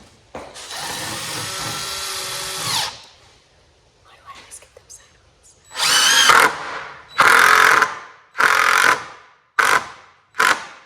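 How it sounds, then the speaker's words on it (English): A power drill whirs in a long run, then in several short bursts as screws are driven into wood, with quiet voices in the pauses. "go ahead and screw it in"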